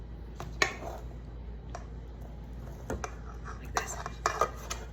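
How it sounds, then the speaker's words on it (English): Two crisscrossed butter knives cut butter into flour for a pie crust in a bowl, making repeated metallic scrapes and clinks in irregular bursts, close and fairly loud, with a brief spoken remark. "take 2 butter knives and you crisscross them like this"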